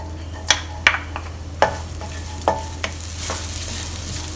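Thinly sliced shallots dropped into hot oil in a pan for Yangzhou fried rice, giving a few sharp clatters and stirring knocks over a low, steady sizzle that swells slightly toward the end, with no talk.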